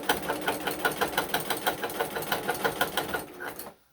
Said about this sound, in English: But my sewing machine sounds a little harsh.